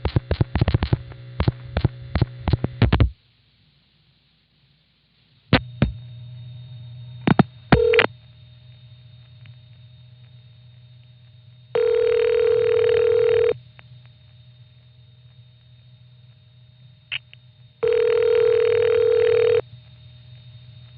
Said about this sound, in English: The White Plains building has a pseudo-modern ringing machine.